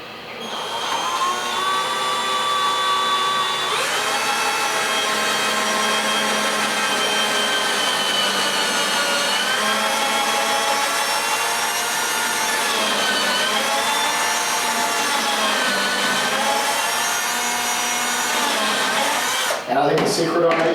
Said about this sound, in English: I'm going to drill a hole first before I put any glue or anything to start.